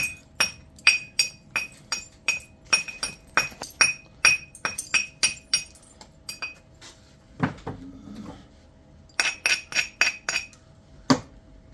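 Big flint rock struck repeatedly with a billet while flintknapping, giving a rapid series of sharp, ringing clinks, then a brief pause with a softer scrape before several more hard strikes, loud and close.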